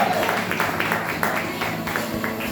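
A church congregation applauds in a short burst of clapping that is loud and dense, with voices mixed in.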